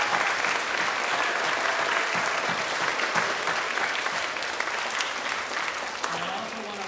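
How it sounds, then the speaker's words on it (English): Audience applause after an elementary school handbell concert, dense continuous clapping filling the room at a loud, even level throughout. "one more round of applause."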